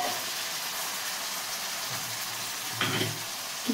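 Water poured into a pan of fried onion and tomato sets off a steady, close sizzle, with a sharper burst of hissing and bubbling near the end.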